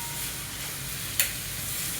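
Onion and tomato sauté in a pan for sambar, a low, steady sizzle close by with one sharp metallic scrape midway.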